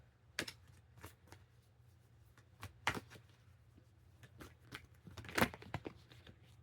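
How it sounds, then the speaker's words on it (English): Tarot cards being shuffled by hand, heard as a faint, irregular run of soft riffling clicks and flicks with a few louder bursts, without any speech. "Every time that I start to shuffle, the shuffle is always different"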